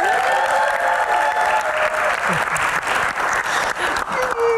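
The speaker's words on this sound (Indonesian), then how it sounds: "Tepuk tangan yang paling meriah dong buat Gian." A studio audience at a comedy Q&A show claps loudly and continuously for a panelist, a thick sustained roar of applause with whoops and cheers rising over it and a faint tonal sound in the background.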